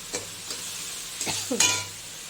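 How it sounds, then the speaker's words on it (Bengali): Rice is added to a hot pan with fried pointed gourd, shrimp and coconut and stirred with a utensil. A soft sizzle runs under a few light scraping stirs and clinks, with no talking. "চালটা দিয়ে দিচ্ছি তারপর এক এক করে এগুলো দিয়ে দেবো"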